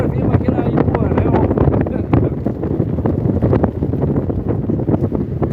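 A strong northeast wind roars across a beach, battering the microphone in loud continuous gusts with rapid buffeting bursts, while a person talks intermittently underneath.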